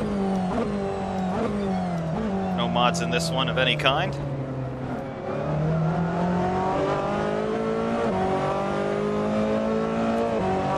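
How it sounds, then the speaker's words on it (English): A Ferrari 488 GT racing car engine in the Assetto Corsa video game drones steadily with rising and falling revs, gear shifts audible, while someone talks over it throughout. "not bad sounds here. Of course, this is the Kuno's 488 GT Ferrari."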